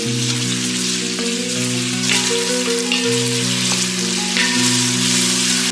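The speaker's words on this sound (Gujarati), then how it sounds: "ઓનિયન સરસ લાલ થાય ત્યાં સુધી એને શેકી લઈએ." Sliced onions fry in hot oil with a steady, close, dense sizzle that stays loud and unbroken, with faint stirring scrapes and a low hum underneath.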